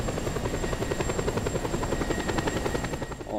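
A helicopter takes off in the video game Just Cause 2, its rotor beating in a steady, loud, close chop that continues without pause and with no talking.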